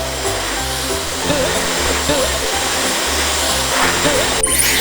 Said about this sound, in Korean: 바른 다음에 드라이기를 이용해서 모발을 말려주셔야 돼요.